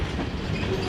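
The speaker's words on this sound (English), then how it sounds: "I believe this train does have an end somewhere." A long train rolls past on railroad tracks in Northeast Alabama, with loud, steady wheel rumble and clatter very close by and a faint squeal over the top, filling the whole moment without any talking.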